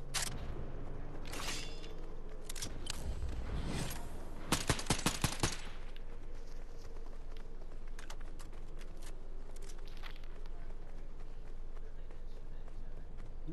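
Gunfire in the Fortnite video game crackles in quick bursts, including a dense rapid volley midway, under a player's casual speech and background game noise.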